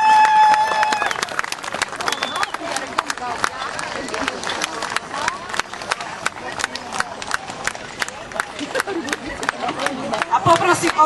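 A crowd applauds the winner at a horse competition featuring Noric stallions, with sustained rapid clapping throughout while an announcer speaks over it.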